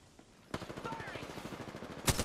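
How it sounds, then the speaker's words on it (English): Video game gunfire, a rapid burst of close automatic shots rattling steadily, ending in one louder blast, alongside faint talk. "Firing!"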